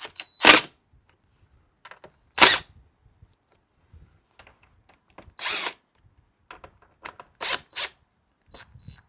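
A power tool loosens a battery hold-down bolt on a Jeep JL, heard as several short bursts of whirring spread out with quiet gaps between them, fairly close and with no talking.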